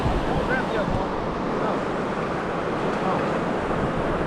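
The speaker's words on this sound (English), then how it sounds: "The waves are not crashing nearly as hard." Gulf of Mexico surf washes onto a Florida beach on a calmer evening after the wind has dropped, a steady broadband roar of breaking waves with some wind rumble on the microphone.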